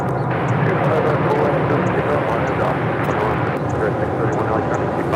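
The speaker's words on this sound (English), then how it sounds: "That's followed by Spirit Airlines Flight 631 heading to Atlanta in an A320." A Spirit Airlines A320 jet departs LAX with a loud, steady, continuous engine roar that holds evenly throughout, with voices in the background.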